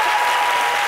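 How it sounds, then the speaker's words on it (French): A studio audience at a midday television show claps in a brief, dense burst of applause, loud and steady with no pauses. "Applaudissements encore pour"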